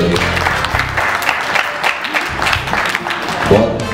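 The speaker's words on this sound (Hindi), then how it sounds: "तो मैं चाहूँगा कि इसके लिए अच्छे जान मोहम्मद के लिए जोरदार तालियां होनी चाहिए।" An audience at a film music launch applauds, a fairly loud, continuous patter of clapping mixed with some voices and background sound.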